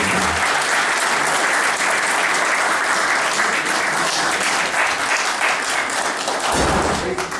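Audience applause greets a poet at a World Poetry Day event, loud continuous clapping from a room full of people that holds steady and cuts off abruptly near the end.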